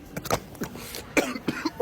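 Several short, sharp coughs burst out close by, separated by brief pauses, with a rough throat-clearing quality.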